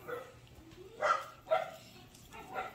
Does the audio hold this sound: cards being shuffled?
no